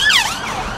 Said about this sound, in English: an ambulance coming down here at the moment